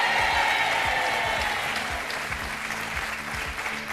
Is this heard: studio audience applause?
yes